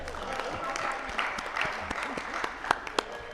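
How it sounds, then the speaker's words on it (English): An audience at a Transcorp annual general meeting claps for a board member: steady, moderately distant crowd applause with a few sharper individual claps near the end. "So let's clap again for him."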